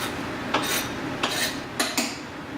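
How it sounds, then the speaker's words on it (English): A spoon stirs cod fish curry in a metal pot, giving four crisp, close clinks against the pot's side in a slow rhythm over a soft steady hiss. "I'm going to mix it slowly."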